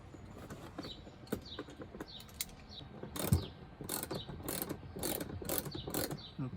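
A bolt is fitted through a headliner shelf mounting bracket inside a Sprinter camper van, producing a close run of rhythmic ratcheting clicks in short repeated bursts.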